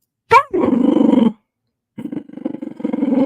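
A dog growls close by in two bursts, a sharp yelp-like onset then a sustained rumbling growl, a short pause, and a second stuttering growl.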